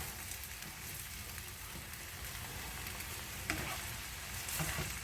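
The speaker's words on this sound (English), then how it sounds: "And now we're back to the hamburger, which we're almost done browning." Hamburger meat browning in a pan gives a dense, continuous close sizzle with occasional scrapes and stirring clicks, with no voices.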